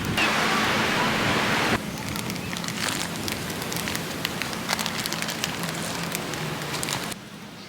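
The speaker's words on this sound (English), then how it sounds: "It's like pouring rain" Steady broadband hiss of heavy rain pouring down in Okinawa, louder at first then settling into a dense patter with scattered drops, continuous throughout.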